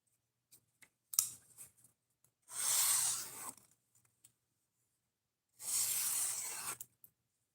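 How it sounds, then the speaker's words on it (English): Two sustained rasping strokes of a knife being sharpened against a sharpener, each lasting about a second, close and moderately loud, with faint scattered clicks and handling noises between them. "it's just me sharpening it"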